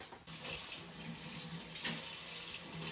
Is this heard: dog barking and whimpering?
no